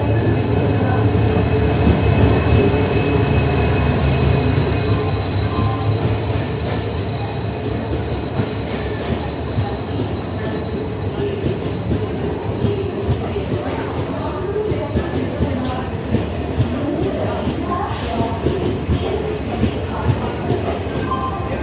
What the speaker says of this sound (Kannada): Mangaluru central to Vijayapura express ಇದು